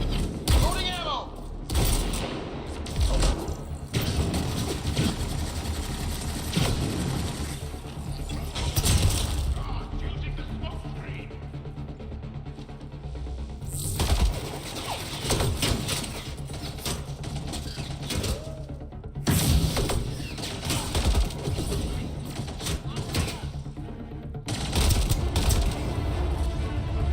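Combat in Mass Effect: Andromeda, with bursts of gunfire, thuds and mechanical clicks from ammo reloading over busy game ambience, loud and close, while voices talk throughout.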